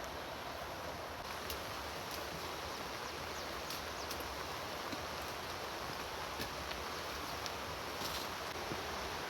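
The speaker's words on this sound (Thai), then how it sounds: "ฝนตกบ่หยุดบ่เซา" Heavy rain falls steadily on an upland rice field after days of downpour, a dense, even hiss of drops with no pauses, continuous and fairly soft throughout, with no voices.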